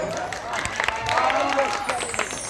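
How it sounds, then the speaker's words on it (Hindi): Spectators at a village stage drama clapping for a debut actor, with a crowd's applause mixed with cheering and background chatter, while a voice speaks and music tones play over it. "तो एक नवोदित कलाकार के लिए एक जोरदार ताली हो जाए"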